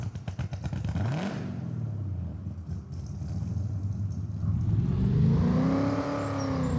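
A car driven in the farming video game Farming Simulator 25, its engine rumbling and revving up close, pitch sweeping up and down as it accelerates and shifts, with a whirring tone rising near the end.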